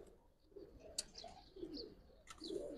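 Pigeons coo softly in a home loft, low throaty murmurs recurring several times with a few faint sharper chirps, quiet and close against a light background hiss.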